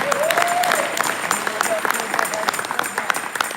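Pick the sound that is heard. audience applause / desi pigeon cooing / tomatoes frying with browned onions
audience applause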